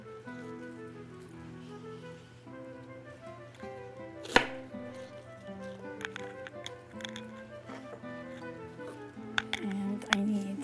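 A kitchen knife chops vegetables coarsely on a cutting board in sparse, uneven taps with a few sharper knocks, under steady talk and soft background music.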